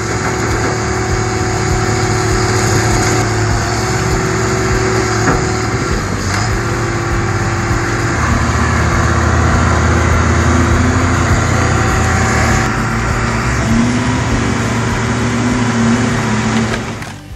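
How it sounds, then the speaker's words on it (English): Case 621E wheel loader at a machinery recycling site runs with a steady, loud engine drone and shifting mechanical whine over about seventeen seconds, with no talking. "The Case 621E machine, with its powerful engine, plays a crucial role in transporting the trucks to the crusher"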